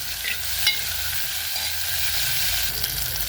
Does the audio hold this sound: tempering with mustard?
yes